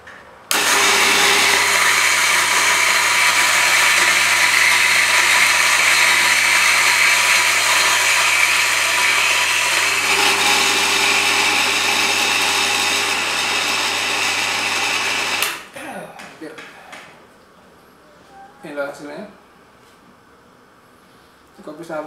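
An electric coffee grinder grinds Sajang coffee beans from Lombok, a loud steady whirring drone for about fifteen seconds that stops abruptly, followed by quiet handling sounds and a brief voice.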